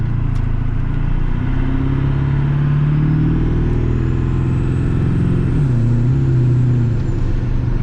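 Ford 7.3L Powerstroke diesel pickup with a Hydra tune driving under load, its loud engine drone holding steady, then dropping and settling as it shifts gears, recorded from inside the cab.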